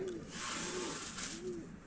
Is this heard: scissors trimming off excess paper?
no